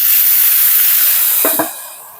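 Steam hisses loudly and steadily under a dome on a flat griddle while cheese melts on a chili cheeseburger. A couple of brief clinks come near the end as the hiss fades slightly.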